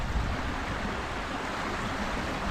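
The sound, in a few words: small waterfall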